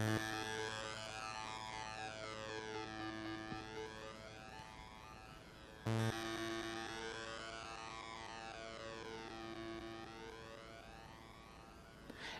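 A Haken Continuum synthesizer plays with a half dry, half wet echo effect: sweeping, siren-like tones glide slowly down and back up in repeating arcs, a drier attack returning near the middle, with no talking.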